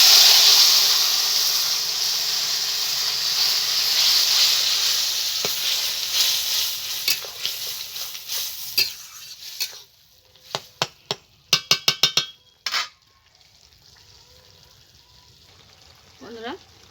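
A curry of spinach and prawns goes into a hot pan, sizzling and hissing loudly at first and fading, followed by a series of sharp clanks and scrapes of stirring utensils against the pan.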